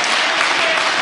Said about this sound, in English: a well-deserved ovation from the crowd